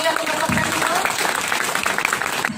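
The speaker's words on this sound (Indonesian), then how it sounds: "Kita kasih tepuk tangan yang meriah untuk Dr. Trevino." Lively audience applause after a stem cell therapy presentation by a doctor: a steady wash of clapping with voices mixed in, lasting a couple of seconds.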